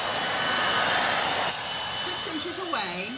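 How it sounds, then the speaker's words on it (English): A hair dryer held about six inches away blows with a steady, loud whooshing hum that drops slightly in intensity halfway through, with a faint voice murmuring underneath near the end. "So I'm holding my hair dryer about"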